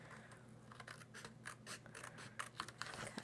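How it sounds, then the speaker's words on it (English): Small, sharp scissors snip a window out of a paper treat box in quick, close, crisp cuts with short pauses between them, faint against a quiet room and no speech. "I'm going to take some little tiny sharp scissors, poke through there, cut this little window out"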